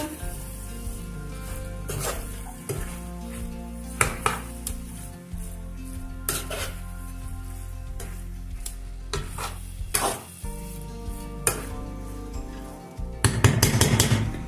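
Loud, steady sizzling of potatoes, cauliflower and carrots frying in a hot pan for aloo gobi, with repeated scraping and clinking as they are stirred, a few quick clattering taps near the end.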